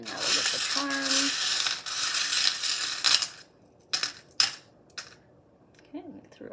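A handful of metal charms is tossed onto a surface, a loud jingling clatter that settles into scattered clinks and small taps as pieces shift, with a brief voice sound near the end.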